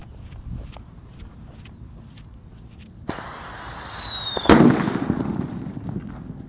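A Pearl Thunder firecracker goes off outdoors: after quiet ambience, a sudden loud whistling burst with sharp shrill tones, then a sharp bang and crackling decay.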